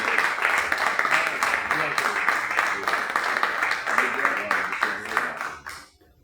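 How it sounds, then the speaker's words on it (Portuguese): Applause from a church congregation during a Portuguese-language service: dense, steady clapping from many hands that carries on for several seconds, then fades away at the end. "E uma salva de palmas."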